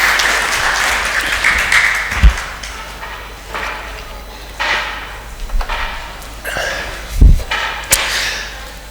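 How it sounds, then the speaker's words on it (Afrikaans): Applause breaks out in a church hall service, a scattered spread of clapping with a few sharp, louder thumps and knocks standing out from the steady patter. "gee vir hulle groot aan 'n klap"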